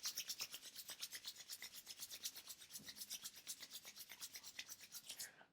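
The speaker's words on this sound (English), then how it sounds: "Keeping the eyes closed once again, we'll rub those hands together." Palms rubbing briskly together during a yoga practice, a steady run of quick, close rasping strokes repeating rhythmically for several seconds with no talking.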